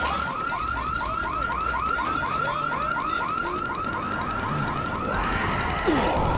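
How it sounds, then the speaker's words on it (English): Car alarm in Dead Rising 3, tripped by a zombie, loops a rapid repeating warble at close range, steady and loud throughout, with game noise rumbling underneath and a brief thud near the end. "It's a good thing that zombie set the alarm off."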